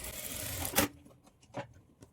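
A sewing machine stitching a dart on a blouse makes a brief quiet whirring run. A few faint clicks and taps follow.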